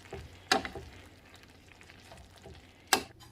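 Tortellini is stirred in a hot pan over a faint, low sizzle, with two sharp spoon scrapes, one early and one near the end, and quiet shuffling between them.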